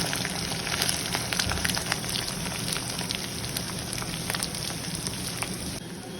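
Finely chopped onion frying in a pan while prawn masala is being cooked, giving a steady, dense sizzle and crackle at close range that runs unbroken throughout, with no talking.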